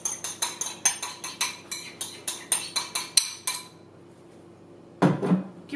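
Spoon clinks steadily against a bowl while cheesecake crumb is mixed with melted butter, a quick rhythmic run of sharp knocks, then a pause and a louder scraping stir near the end.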